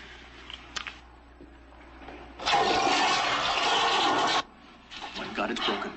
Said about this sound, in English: It's just Daddy flushing the toilet, that's all.